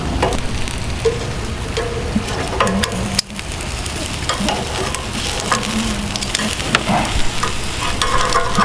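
Shrimp and vegetable skewers sizzle and crackle steadily on a hot Lone Star Grillz grill, a loud, close frying hiss that continues with only a brief dip partway through.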